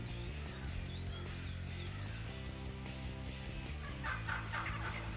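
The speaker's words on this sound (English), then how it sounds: "Joe decides to drop the hammer on this big Wisconsin gobbler" Wild Wisconsin turkey gobbling during a spring hunt, a loud rattling gobble rolling through the first seconds, followed by further bird calls in a busy outdoor setting with steady background noise.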